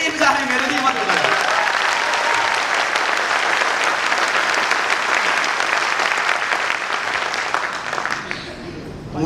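Loud, sustained applause from an audience at a training seminar, dense and even for several seconds, with a voice briefly heard at the start before the clapping dies away near the end.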